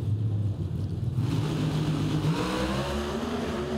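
NHRA drag racing cars at the Charlotte four-wide event launch at full throttle, a loud, deep rumbling roar that builds and shifts as they accelerate away, with crowd noise beneath.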